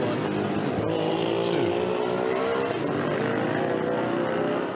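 A Boyer race car powered by a Honda Transalp engine races past, a loud continuous engine drone with rising and shifting pitch, close and steady throughout.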